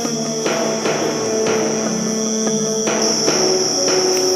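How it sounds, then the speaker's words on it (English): Crickets chirp steadily in a high, continuous trill, close and fairly loud, with faint pulsing clicks layered through a quiet night background. "Sometimes the sound of crickets gets louder before it stops suddenly."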